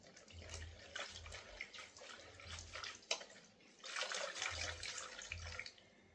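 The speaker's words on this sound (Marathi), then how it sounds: "याला मस्त कचकच पाण्याने धुवून घ्यायचं" Khapri leafy vegetable being washed by hand in water, faint splashing and sloshing in uneven bursts with soft thuds, close and quiet.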